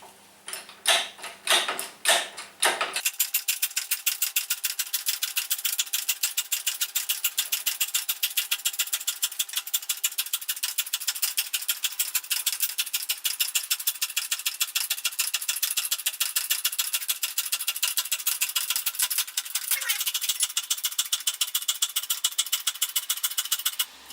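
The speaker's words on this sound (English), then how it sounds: "So at the minute I'm just lifting it with no attachments, just lifting it on the stand." Abba Sky Lift motorcycle stand being raised to lift the back wheel, giving a steady, close, rapid ratcheting tick-tick rhythm that runs continuously after a few louder knocks at the start, with no talking.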